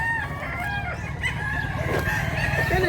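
A rooster crows near a gamefowl hatchery in Mantalungon, Cebu, a single loud drawn-out call rising and falling over about three seconds, with clucking fowl faintly around it.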